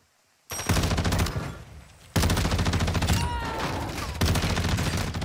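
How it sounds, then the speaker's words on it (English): Bursts of rapid automatic gunfire in a shooter video game, loud and close, arriving in sustained volleys separated by a short pause. "There's one here shooting at me"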